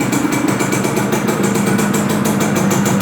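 A 1981 Yamaha V80 two-stroke autolube motorcycle engine running at idle nearby, a loud, steady buzzing putter with a fast regular pulse and no talking.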